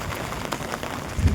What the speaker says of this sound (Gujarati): પાણી અમરો વરસાદ એટલો આવી ગયો મિત્રો